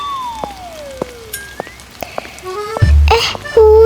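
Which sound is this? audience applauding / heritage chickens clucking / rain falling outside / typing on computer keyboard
rain falling outside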